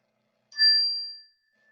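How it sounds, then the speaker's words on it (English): A single chime struck during a Sunday worship service rings out clearly and alone in a quiet room, its bright tone sustaining and slowly fading over about a second. "listen to the sound of the chime"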